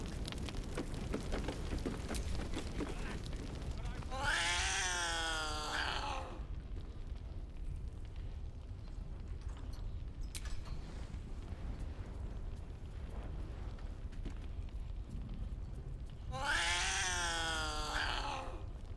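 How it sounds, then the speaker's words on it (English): A cat in the video game Baldur's Gate 3 gives two drawn-out, wavering meows several seconds apart, loud and close. A low rumbling purr-like bed sits under them, and there is no speech. "at least you purr for me."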